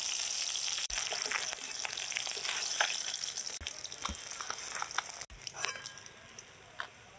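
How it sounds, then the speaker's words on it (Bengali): Turmeric-coated fish pieces frying in a wok, giving a steady dense sizzle with scattered pops and crackles throughout, close and fairly loud, no voices. "এবার বাকি পিসগুলো ভাজবো।"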